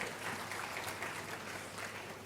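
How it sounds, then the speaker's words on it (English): A crowd claps for a Vice-Chancellor at an education minister's address, a steady dense wash of applause at even loudness throughout, with no voices on top. "We have to clap for the Vice-Chancellor"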